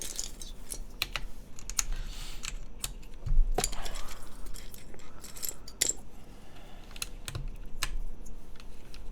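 Typing on a Merisi x Mechlovin Sintesi mechanical keyboard with DCS keycaps, close and crisp, irregular clacks and sharper key bottom-outs, including a heavier enter-key thock, with no talking.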